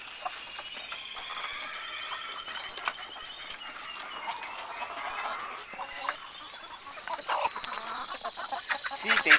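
A flock of chickens clucks and chatters steadily, with overlapping nearby calls and scratchy squawks that grow a little louder and busier toward the end.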